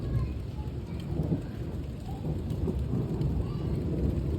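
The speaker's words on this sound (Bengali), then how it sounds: "বাইরে বৃষ্টি হচ্ছে দেখেছো, পুরো ঘাসটা ভেজা পুরো।" Steady rain pours down with low rumbling thunder rolling underneath, a constant dense wash of sound with no voices.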